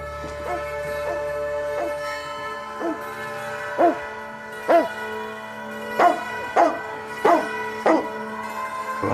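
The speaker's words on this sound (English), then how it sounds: "the dog was making a lot of noise with us" A dog barks outdoors in a series of about seven or eight sharp, moderately loud barks at uneven intervals, with fainter yips between them and no talking.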